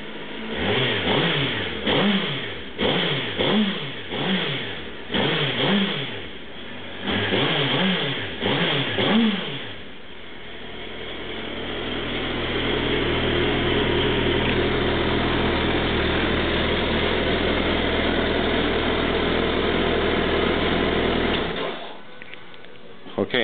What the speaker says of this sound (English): Right now I'm revving the engine about